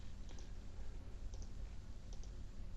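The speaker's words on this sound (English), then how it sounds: "If we type in 4 times the square root of 7 in the calculator" Calculator buttons being pressed, giving three faint pairs of light clicks spaced about a second apart over quiet background hiss.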